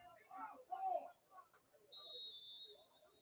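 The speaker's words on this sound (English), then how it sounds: "And we have another whistle." A referee's whistle blows during a Lima Warriors vs Capital City Bandits football game, one long steady blast rising over crowd murmur and commentary voices after a stretch of talk.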